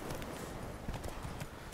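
Horse hooves clip-clop at a steady walking pace in The Witcher 3, a close, continuous patter of soft thuds with a few heavier strikes and no talk over them.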